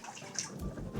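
Water is poured into an Instant Pot while cooking, a short, faint splashing gurgle of liquid filling the pot at close range.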